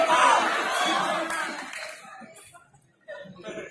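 Audience at a Hindi kavi sammelan (poetry recital) at a college festival claps and cheers loudly, the crowd noise fading over a few seconds, then a fresh burst of clapping rises near the end.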